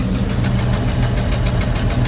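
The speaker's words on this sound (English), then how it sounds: "I love how our idles. That's his idle. That's my idle." A truck engine with a new exhaust idles steadily in a loud, close, unbroken rumble with a faint rhythmic pulse.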